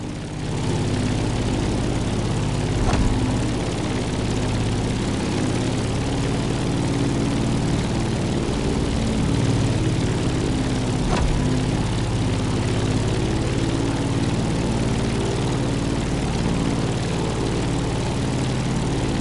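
A propeller aircraft climbs in The Crew Motorfest, its engine droning in a loud, steady, continuous roar with a deep low rumble and no voices.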